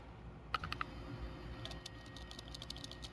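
Keys on a computer keyboard being typed in short scattered bursts, fairly faint and close, over a steady low room hum with no talking.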